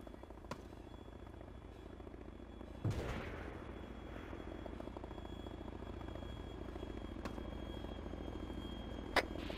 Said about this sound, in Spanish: Helicóptero aproximación desde sur a norte.